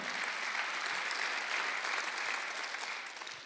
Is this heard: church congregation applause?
yes